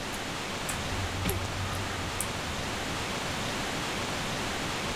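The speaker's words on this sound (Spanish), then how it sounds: "Wow, como suena la cascada." A waterfall in a Tomb Raider 3 engine level roars as steady broadband rushing water through the whole stretch, alone at a constant level with a few faint clicks over it.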